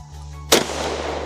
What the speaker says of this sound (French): Allez, tirons.